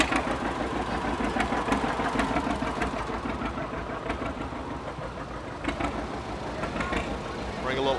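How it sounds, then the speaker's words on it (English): An International Harvester tractor engine runs steadily in a peanut festival parade, a continuous mid-pitched idling rumble with knocking texture, while a voice talks over it through a loudspeaker. "Bring a little IH tractor in there."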